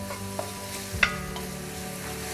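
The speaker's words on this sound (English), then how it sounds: "And we're gonna give this a little stir." Onions fry in hot avocado oil in a pot while being stirred, a steady sizzle broken by a couple of sharp utensil clinks against the pot, close up and with no speech.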